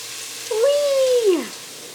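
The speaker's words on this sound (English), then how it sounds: "my onion is sizzling right along" Onion frying in a couple tablespoons of hot olive oil for tomato soup, a continuous soft sizzle with a brief squeaky vocal sound sliding over it midway.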